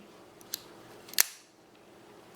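Small multitool scissors snip several times, each cut a sharp, close metallic click separated by brief pauses, with no talking.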